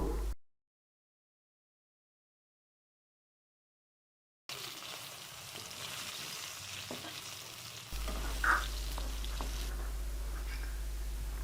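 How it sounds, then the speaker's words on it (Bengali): Turmeric-coated rohu fish sizzles and crackles in hot oil, a steady close frying hiss after a silent gap, with a clatter of utensil near the end. "এখন ভালোভাবে মাছগুলো ভেজে নেব"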